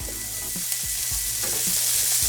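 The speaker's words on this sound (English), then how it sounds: "we're just gonna soften the onions a little bit, brown them up, get them a little color on them" Sliced onions, with apples, soften and brown in a hot pan, giving a steady close crackling sizzle with faint scrapes of stirring throughout, and no voices.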